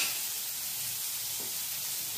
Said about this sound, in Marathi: त्याच्यात आपण जिरं तळतळलंय, कांदा टाकू.